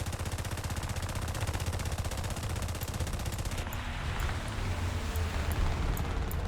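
An aircraft's machine guns rattle in War Thunder, a long, loud, rapid burst of fire that stops partway through, leaving the roar of the plane's engine and a few faint pops.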